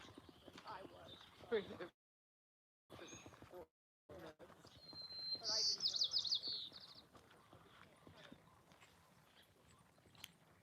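Birds sing and chirp outdoors under a gloomy sky, one clear trill standing out midway, with footsteps and other faint outdoor noise around it.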